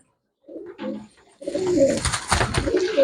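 Close pigeons coo: two soft early calls after silence, then a denser, louder stretch of throaty rolling coos with some rustling behind them.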